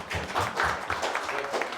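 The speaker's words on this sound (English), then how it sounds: "Big round of applause." Brief round of audience applause at a cannabis summit, a short burst of scattered clapping from a seated crowd, moderately loud and close.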